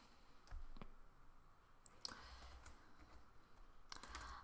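Keys clack on a computer keyboard while a visual novel scene is assembled, several scattered broadband clicks at close range with a couple of louder strikes, and no voice over them.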